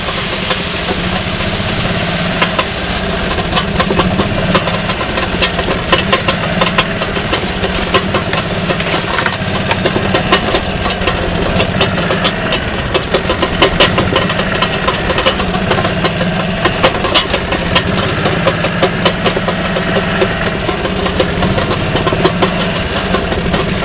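Golf cart engine running steadily during a ride around a rural property in fall, a loud continuous mid-pitched drone with rattling and wind noise throughout, no talking.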